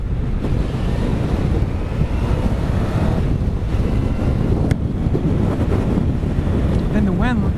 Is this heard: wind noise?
yes